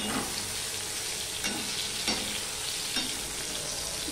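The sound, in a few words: pointed gourd (potol) frying in a pan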